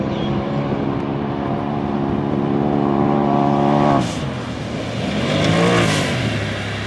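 A 168 Turbo S fitted with KMCs accelerates nearby with a loud, droning engine note that climbs in pitch, drops briefly as if shifting, then revs up again, with no voices.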